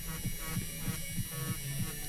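A tattoo machine shading a sakura design gives a steady electric hum with a fast pulsing throb, close and fairly quiet, under a faint mains-like buzz.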